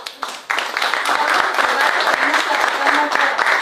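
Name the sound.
audience applause after a talk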